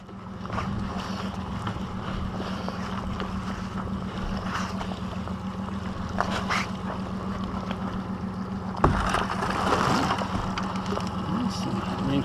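Steady low engine drone of a boat under way, with wind buffeting the microphone and water splashing, a brief thump partway through.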